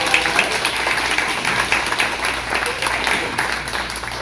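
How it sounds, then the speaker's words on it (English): An audience applauds a newly published author with steady, dense clapping that fills the space at a fairly loud level throughout. "So give that a round of applause."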